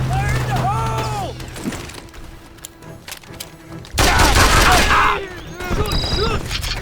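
Heavy gunfire in Mercenaries 2: World in Flames, a loud rattling fusillade that erupts midway and comes in bursts, mixed with other battle noise and shouted soldier voices.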